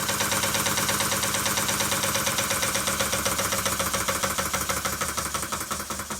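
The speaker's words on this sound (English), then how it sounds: "at a higher speed, the knocking returns with a vengeance" A small Stuart model beam engine runs fast with a rapid, steady mechanical knocking, loud and close, its rhythmic clatter continuing throughout.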